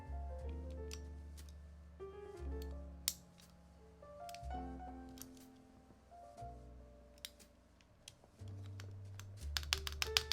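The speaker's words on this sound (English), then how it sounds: "we'll try that spacebar again for size" Spacebar presses on a mechanical keyboard fitted with a linear switch, a series of soft, close clacks at irregular intervals, with faint low hum between presses.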